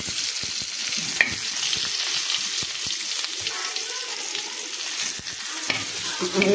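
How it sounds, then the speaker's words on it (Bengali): Pointed gourd (potol) frying in oil, a loud continuous crackling sizzle with scattered sharp pops and occasional stirring sounds, close to the pan. "আমি এখানে পটলটাও ভেজে নিলাম।"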